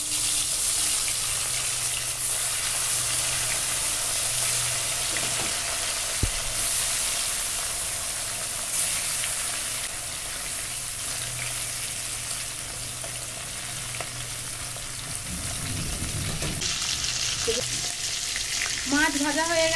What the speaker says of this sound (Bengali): কড়াইয়ে তেল গরম হয়ে গেছে, মাছ ভেজে নেব